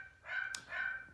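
A pet dog gives two short barks in the background of a quiet indoor space, with a brief gap between them and no talking over them.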